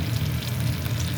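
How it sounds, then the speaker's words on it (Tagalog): Garlic frying in butter for spicy squid, a steady close sizzle and crackle throughout the short moment, with no talking. "Lutuin muna natin ang garlic."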